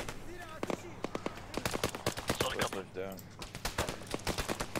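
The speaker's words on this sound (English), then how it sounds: "We've got heavy fire coming from the south." Heavy gunfire in the Arma 3 video game: sharp cracks and short bursts of shots, some in quick rhythmic strings, mixed with other game sounds at moderate level.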